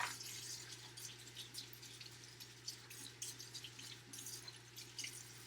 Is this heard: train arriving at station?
no